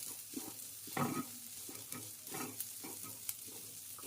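Boiled cashew pieces roast in a pan while being stirred, a steady soft sizzle broken by scraping and clinking stir strokes at an uneven rhythm, with no talk.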